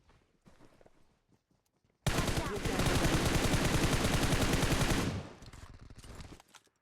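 Video-game gunfire erupts as one dense, rapid automatic burst lasting about three seconds, loud and close. Quieter scattered clicks and footsteps come before and after it.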